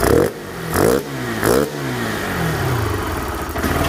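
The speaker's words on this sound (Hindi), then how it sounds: "ये हमारी रेस खुल रही है रेस जैसे हम एक्सीटर दे रहे हैं ना तो रेस खुल रही है" A fuel-injected motorcycle engine revs in three sharp throttle blips, each rising and falling, then drops back to a steady idle with one more rise at the end, loud and close.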